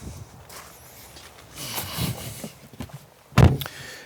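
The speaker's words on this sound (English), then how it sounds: "power-operated door handles spring out to allow you to enter" Power-operated door handles springing out on a 2021 Porsche 911 Turbo S: a faint mechanical whir and rustle, then a single sharp thunk near the end, close by with no talk.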